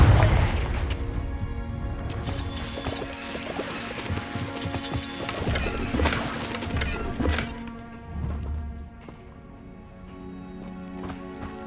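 Confringo explosion spell in the video game Hogwarts Legacy, a sharp shattering blast followed by booming, crackling bursts and scattered debris-like hits that fade out over several seconds.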